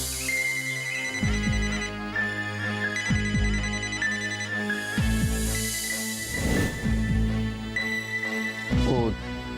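Electronic phone ringtone plays in repeated melodic bursts across the whole stretch, loud and near, in a village drama scene, with people talking under it.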